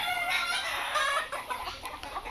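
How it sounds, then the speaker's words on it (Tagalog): Backyard chickens and a rooster in a Filipino poultry pen clucking steadily, close and fairly loud, with busy overlapping calls that ease off slightly toward the end. "Dito muna ako sa aking mga alagang manok."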